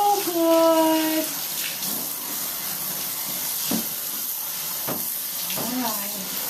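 Tap water runs in a steady, full hiss to fill a bath for a dog, with brief whining or vocal tones rising over it near the start and end.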